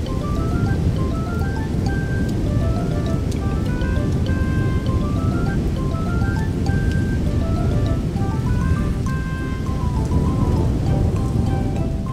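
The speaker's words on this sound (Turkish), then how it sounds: "yağmurun dinmesini bekleyeceğiz" Steady heavy rain in a children's cartoon set in the mountains, a continuous close downpour hiss with faint thunder rumble and bright musical tinkling notes scattered on top, no talking.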